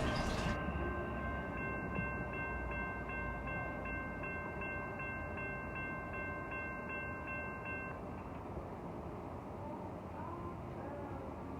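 A train rolls past at Jack London Square in Oakland, California, with a steady low rumble of wheels and cars, topped early on by a sustained multi-tone horn that fades after several seconds while the rumble continues.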